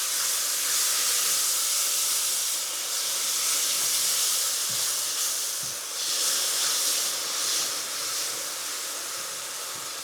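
Liquid boils hard in a pan of leek, potato and bacon soup, giving a loud, continuous hissing, bubbling rush close up with a couple of faint knocks.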